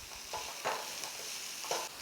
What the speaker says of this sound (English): So what I am going to do now, slightly stir fry that.